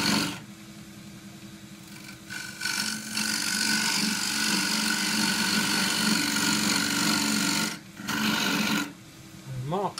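A small cutting tool works a wooden chuck collar spinning on a lathe, making a steady scraping, rasping hum over the motor's drone, loud and close, with brief pauses where the cut lifts and a short voice near the end.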